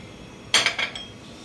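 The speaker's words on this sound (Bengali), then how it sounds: "এটা প্রথমে আমি একটু চামচ দিয়ে মিশিয়ে দিচ্ছি।" A spoon stirs gram flour, cornflour and chilli powder in a bowl, giving a quick cluster of four light, close metallic clinks and scrapes in an otherwise quiet kitchen.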